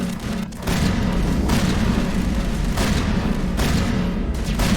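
Sniper rifle fire in the video game Mass Effect: a series of loud, sharp booming blasts over a dense, steady wash of battle noise, with no pauses between them.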